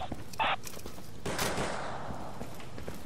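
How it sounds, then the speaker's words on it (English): M1 carbine fire in the shooter game Insurgency: a sharp close report followed by a rolling, echoing gunshot that decays slowly over the battlefield, with faint footsteps and background clatter. "Let's try it with the little M1 carbine for a little while."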